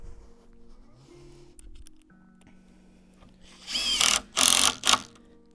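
A power drill drives screws into a wooden garden base. Quiet handling and clicks come first, then two or three strong whirring bursts of the driver near the end.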